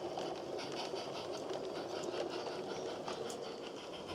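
A pickup goods train runs along the Peckforton Light Railway near Beeston Castle, its steady rolling rumble and clatter continuing evenly and fairly close throughout, with no voices over it.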